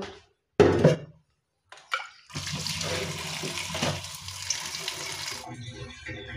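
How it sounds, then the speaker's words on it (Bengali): Cut cauliflower rinsed under a running kitchen tap, water splashing steadily into the sink for several seconds after a couple of brief clunks, fairly close and with no talking. "এবার আমরা এই ফুলকপি ধুয়ে নিব।"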